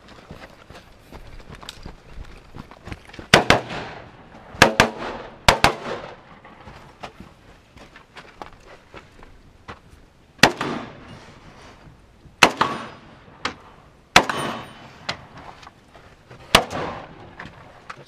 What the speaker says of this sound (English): Glock 19 Gen 4 with a Silencer Co. suppressor barrel and a AAC Tyrant 45.